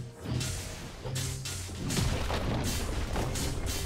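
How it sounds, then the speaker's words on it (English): A turret is destroyed in League of Legends with a series of heavy booms and crashing thuds, loud and close, layered over a dense game soundscape with no talk. "Blue team's turret has been destroyed"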